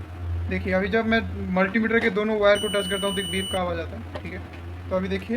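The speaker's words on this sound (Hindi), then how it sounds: "जब मैं मल्टीमीटर के दोनों वायर को टच करता हूँ तो एक बीप का आवाज़ आता है।" A multimeter in continuity mode gives a single steady high-pitched beep of about a second while its probes touch a breadboard. The beep sits under someone talking close to the microphone.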